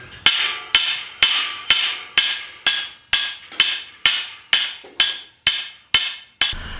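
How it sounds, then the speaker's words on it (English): Metal T-posts for a fence are driven into the ground with a hand hammer: about a dozen loud, sharp metallic strikes in a steady rhythm roughly every half second, each ringing briefly before the next blow. "I don't have a post hole driver, so I'm using my hammer"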